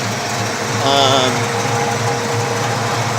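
A 1971 Dodge Dart Swinger's modified 318 V8 engine idles with a steady low rumble, a brief higher whine rising over it partway through.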